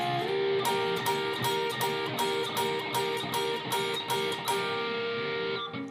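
Part 3 of a guitar solo played slowly on electric guitar, a sliding opening note followed by a steady run of repeated picked double stops that fades at the end, played alone.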